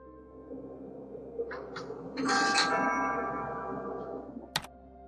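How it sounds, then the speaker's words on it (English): A shop door entry chime rings at a small market near closing time, a bright electronic ding-dong tone sounding once and fading, followed by a sharp click, with no talk. "The door chime sounds"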